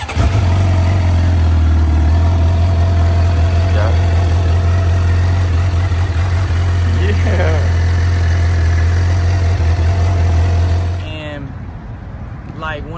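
A Suzuki GSX-R 750 sport motorcycle with an M4 full exhaust system idles steadily with a deep, even rumble, then cuts off near the end; a few faint voices chirp in the background.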